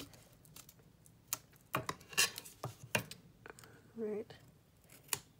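Scissors snip through card for an artist trading card (ATC), a series of sharp close cuts and clicks with a short spoken word partway through.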